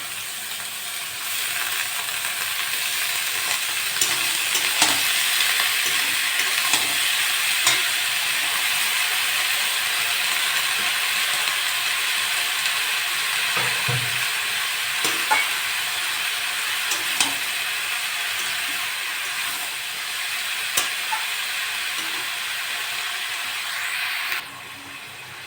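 Lightly pre-fried shrimp sizzling steadily in a pan of snake gourd stir-fry, broad hiss throughout with scattered clicks and scrapes from stirring, close and continuous, no talk.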